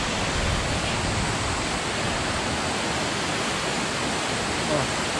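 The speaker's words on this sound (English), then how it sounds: "Oh, it started raining" Steady, dense broadband rush of water at a waterfall in West Burton, with rain beginning to fall, loud and continuous throughout with no clear breaks.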